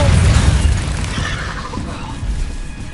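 An Incendio fire spell cast in the video game Hogwarts Legacy, a loud whooshing burst of flame with a booming onset that decays over a few seconds amid other spell effects.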